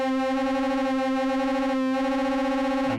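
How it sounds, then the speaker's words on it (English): A guitar played through a distortion effect holds one sustained, buzzy note rich in harmonics for about three seconds, alone, with a slight wobble before it cuts off. "So let's add distortion to that."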